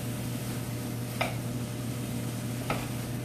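Zucchini, squash and tomatoes cook down in a skillet with a steady, soft sizzle, broken by two brief utensil scrapes or taps, heard close with no talk.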